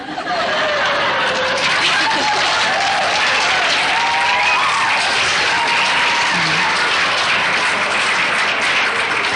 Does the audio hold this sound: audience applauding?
yes